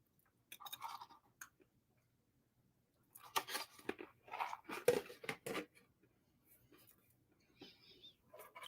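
Cashews being eaten up close, with soft crunching and chewing in short irregular bursts separated by quiet pauses.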